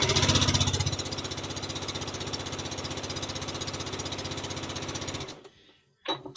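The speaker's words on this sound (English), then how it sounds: "let me get this sewn" A sewing machine stitches a quilt block with a fast, steady mechanical chatter for about five seconds. It then stops abruptly, followed by a brief rustle.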